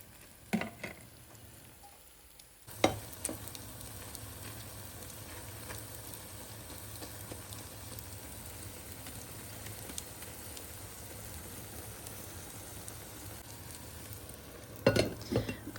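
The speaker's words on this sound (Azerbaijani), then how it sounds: "hazırladığım kükünü yağın içərisinə əlavə edirəm" Kuku herb omelette mixture added to a spoonful of oil in a pan on a gas stove: a brief clatter, then a steady, close sizzle that fills the rest of the clip, with a few more clinks near the end.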